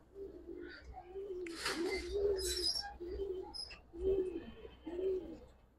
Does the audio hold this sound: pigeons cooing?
yes